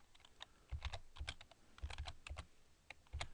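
Fingers typing on a computer keyboard, a few quick bursts of clicking keystrokes with short pauses between them, close and moderately loud with no talking.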